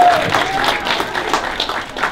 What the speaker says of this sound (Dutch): Nou, geef nog even een heel groot applaus